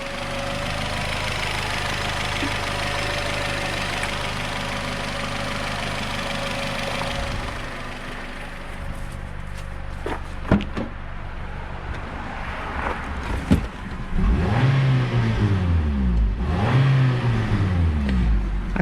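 Nissan Rogue engine with new spark plugs and ignition parts, idling steadily at first, then blipped through several rising and falling revs, close and fairly loud, with no talking.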